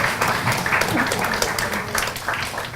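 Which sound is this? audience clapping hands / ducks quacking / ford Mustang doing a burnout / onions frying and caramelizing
audience clapping hands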